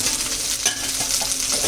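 Garlic, red chili, curry leaves and cumin sizzle steadily in hot oil while a spoon stirs them, with a continuous close frying hiss and soft scraping strokes throughout.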